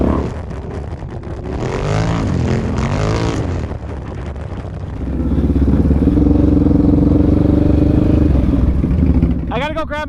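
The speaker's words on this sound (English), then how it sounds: "Ripping the Renegade." Can-Am Renegade 1000 ATV engine droning loudly and steadily up close, with people talking over it at the start and a brief voice near the end.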